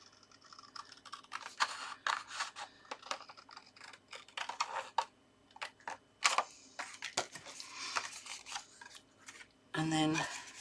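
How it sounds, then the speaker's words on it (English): Scissors snip through printed paper card along dashed lines during a craft project, a run of short close crisp cuts and rustles, with quiet handling between and a brief louder noise at the end. "just grab my scissors. So like I said, just trim the dash lines"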